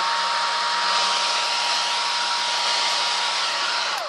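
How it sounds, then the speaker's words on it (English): A hair dryer blows steadily at close range, a loud continuous whoosh with a constant motor hum, cutting off right at the end. "Hair dryer, and I probably will end up talking right over it"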